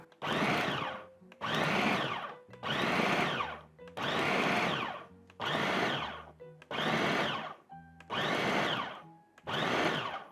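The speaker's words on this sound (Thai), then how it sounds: "ซึ่ งเครื่องปั่นก็สามารถทำการปั่นเป็นระยะระยะได้ครับ" A blender pulse-chops shrimp, minced pork and pork fat in eight short pulses, each lasting about a second with brief pauses between, close and fairly loud.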